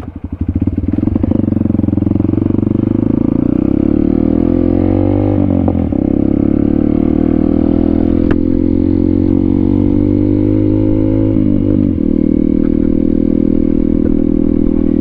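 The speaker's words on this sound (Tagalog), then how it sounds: "Pasensya na kayo guys sa ingay ng tambutso." A loud motorcycle engine rumbling close by with a heavy, throaty exhaust drone that rises and falls slightly as it revs, continuous throughout, on a road in San Ildefonso, Bulacan, Philippines.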